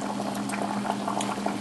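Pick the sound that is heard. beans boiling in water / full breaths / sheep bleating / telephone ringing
beans boiling in water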